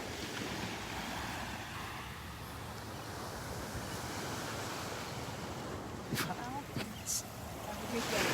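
Small waves break and wash over a sandbar at Delnor-Wiggins beach, giving a constant soft surf rush with wind noise on the microphone, fairly distant, with a few brief louder sounds near the end.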